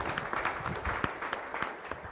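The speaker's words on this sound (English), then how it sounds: "Would you please stand up so we can give you a round of applause, please?" Audience applause for volunteer Rotarians at a Las Vegas Rotary Club meeting, a small crowd clapping with distinct individual claps, moderately close and brief.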